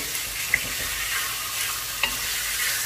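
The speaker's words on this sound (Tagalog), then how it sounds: "Haluin haluin ng haluin para magpantay ang kanyang luto at kulay." Creamy, spicy Bicol Express being stirred in a pan while it cooks, giving a steady close sizzle with a couple of sharp scraping clicks and no voices.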